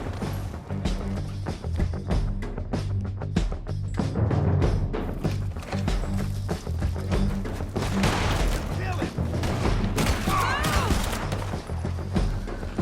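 Gunfire in Red Dead Redemption 2 crackles through a dense mix of game music and noise, with repeated sharp shots spread across the clip at a steady loud level.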